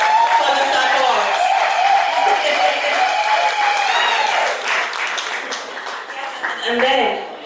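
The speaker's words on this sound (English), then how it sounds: "Well, another round of applause for him, for the support." Audience at a live ethnic cooking event applauds in a steady round of clapping, loud and sustained, while a presenter speaks over it.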